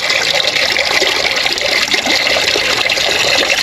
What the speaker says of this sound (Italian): apro, faccio uscire l'acqua ristagnante nella canna,